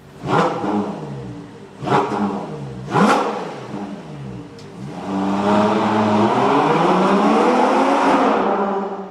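Ferrari Purosangue V12 SUV engine revved hard three times in quick succession, each a rising roar that drops away, then settling into a long sustained high-rev howl, loud and close.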